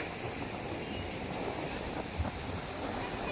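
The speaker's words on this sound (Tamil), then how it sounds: "சவுண்டு பாருங்கள் டும்மு டும்முன்னு அலை வருது" Sea waves at Dhanushkodi beach roll in as a steady, broad wash of surf mixed with wind noise, with a faint thump or two.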